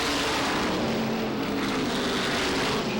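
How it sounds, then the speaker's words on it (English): SK Modified race cars roar at full throttle along the 300-foot back straightaway at Waterford Speedbowl, a loud, dense, continuous engine drone with no voices. "Gallup hard on the throttle down that 300-foot long back straightaway."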